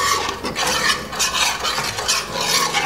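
Garlic fries in hot oil in a pan, giving a steady close sizzle broken by stirring and scraping sounds.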